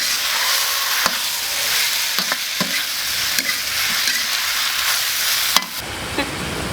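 Pig ears are stir-fried hard in a wok in a spicy Miao-style dish, giving a continuous loud sizzle broken by sharp metal spatula clanks and scrapes as the pieces are tossed.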